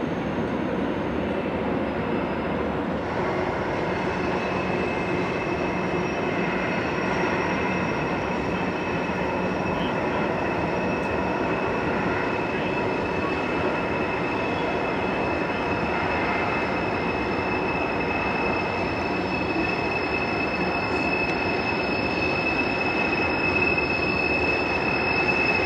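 A long freight train rolls steadily past with a trailing DPU locomotive, giving a continuous rumble of wheels on rail and sustained high-pitched wheel squeal, fairly close and unbroken throughout, with no voices.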